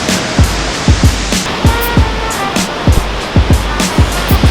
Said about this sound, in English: It's from the waterfall just falling down and just bouncing off the rock.